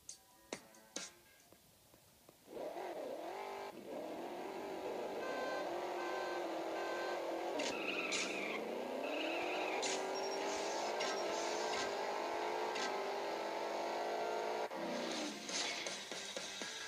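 Car engine in the mobile racing game CSR Racing on iPad 2 revs up after a short pause, then holds a loud, rising drone through the run, with gear-shift dips partway and near the end.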